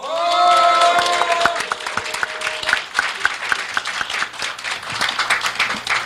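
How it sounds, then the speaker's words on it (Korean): Audience at a civic group's launch ceremony in Korea bursts into cheering and clapping, loud at first with voices raised, then thinning into scattered individual claps that fade toward the end. "여러분들의 힘찬 함성과 큰 박수로 시작하도록 하겠습니다"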